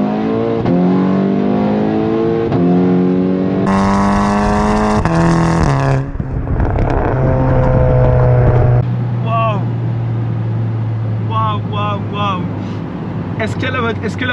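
A tuned VW Golf with a pop and bang exhaust map revs hard up close, rising engine tones climbing then dropping into a steady idle drone, followed by sharp crackling pops and bangs, with people talking over it.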